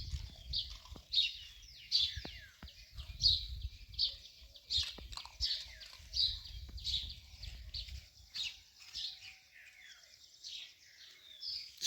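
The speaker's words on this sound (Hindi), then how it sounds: "देखिए पक्षियों की चहचहाट सुनिए आप।" Birds chirp in a quiet early-morning rural setting, their bright, repeated calls coming in quick bursts at moderate distance over a faint low rumble.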